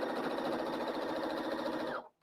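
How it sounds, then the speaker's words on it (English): A Brother NS80E sewing machine stitches in a steady, rapid whir close by, running continuously for about two seconds before stopping abruptly. "Oh, you see the sewing machine"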